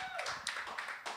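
A comedy show audience applauds a long-married couple: a short, scattered patter of claps comes in uneven bursts, moderately close and fairly light.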